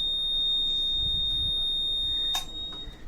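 A continuous high-pitched electronic beep from an ultrasound therapy unit signaling its treatment head is not connected holds steady, with a brief burst of noise near the end and no talking.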